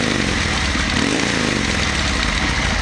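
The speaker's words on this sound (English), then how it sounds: "here's the old Sportster. Sounds nice. She actually revs up good, unlike she did with the stock pipes." Harley-Davidson Sportster engine with aftermarket exhaust, a loud, dense, continuous rumbling roar close by, holding steady at high revs throughout.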